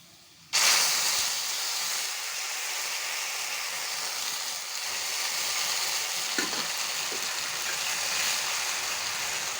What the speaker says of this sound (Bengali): এখন আমি এর মধ্যে হালিমের ডালটা দিয়ে দিচ্ছি।